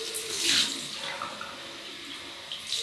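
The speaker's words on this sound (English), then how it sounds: "We've just rinsed off with some water, alum, and then we're going to rinse that off now and carry on." Tap water running into a sink while rinsing after a shave, a soft steady trickle and splash close by, briefly louder early on, then quieter and continuous, with no talk.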